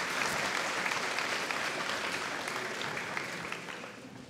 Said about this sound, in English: So we give him a massive round of applause to class Parks